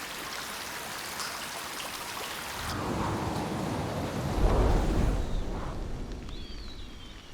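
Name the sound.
water dripping and trickling in cave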